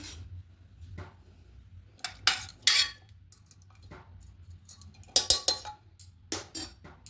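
A spoon clinks and scrapes against a cooking pot while boiled potatoes are lifted out, in several short close bursts over quiet background, no talking.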